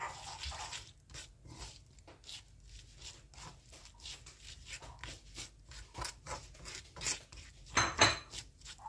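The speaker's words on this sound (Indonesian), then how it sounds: "Kita aduk-aduk sampai rata." Tofu gejot seasoning mixture being stirred in a bowl, a close series of irregular wet scraping and clinking strokes of a spoon against the dish, with a louder clatter near the end.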